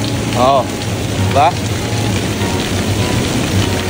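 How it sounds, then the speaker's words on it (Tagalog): Flowing water of the Symphony Streams water feature on a Sentosa water walkway, a steady broadband rush like a waterfall, continuous and fairly close, with brief voices and a couple of short chirps over it. "Parang ito yung tunog ng waterfalls."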